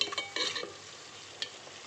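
Turmeric is stirred into egg curry in a frying pan with a few quick scraping strokes over a soft background sizzle, close and brief.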